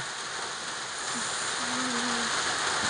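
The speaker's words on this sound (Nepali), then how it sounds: "यस्तो पानी परिरहेछ" Steady rain falls outdoors as a dense, even hiss with no breaks, with a faint low tone briefly rising in the background.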